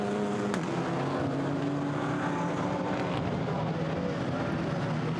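GT4 race cars sweep through the Curva Grande at Monza during a one-hour GT4 European Series race, a steady, continuous engine roar with rising and falling harmonic tones and no one talking.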